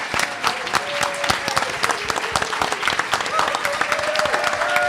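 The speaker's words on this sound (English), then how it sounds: "Let's give them a round of applause." A seated audience at a historical society talk on local music gives a round of applause to a panel, with dense, steady clapping and a few sharper individual claps standing out near the listener.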